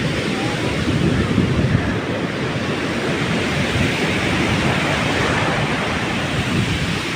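Sea waves roll and wash steadily onto the shore, a loud continuous surf roar with wind buffeting the microphone.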